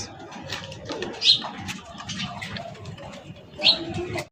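Pigeons of fancy racer breeds coo in low rolling murmurs from several birds at close range, with a couple of brighter calls standing out over busy market background noise.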